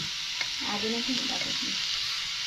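Cauliflower vegetable frying in hot oil in a home kitchen, a steady close sizzle with stirring scrapes, while voices talk over it.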